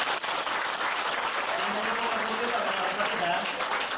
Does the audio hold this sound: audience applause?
yes